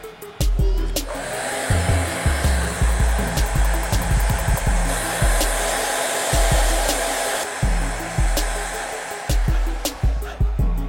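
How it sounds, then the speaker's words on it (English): A handheld blow dryer runs steadily at close range while drying hair, its broadband whoosh continuous for the whole stretch, with low bumps and knocks of brushing or handling beneath it. "I'll come back with a blow dryer just to speed up the process."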